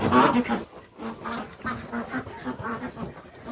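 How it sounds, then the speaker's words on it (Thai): Fattened farm ducks, two to three months old, quack repeatedly in a near, busy flock, with overlapping calls in an irregular rhythm and no talking. "เป็ดรุ่นนี้เป็นเป็ดขุนครับ เป็ดขุนอายุสองเดือนสามเดือน"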